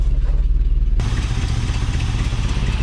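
A 1978 Ford F350 big block V8 idles roughly up close, a loud uneven low rumble with a faint exhaust leak, getting fuller and louder after a second as the revs rise slightly.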